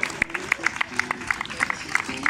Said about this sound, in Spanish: Fuerte ese aplauso, siguen llegando corredores